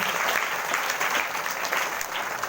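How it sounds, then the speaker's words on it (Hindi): A crowd at a Sunday church prayer service claps steadily and enthusiastically, a dense continuous wash of applause with no pauses. "जोरदार ताली से धन्यवाद करें।"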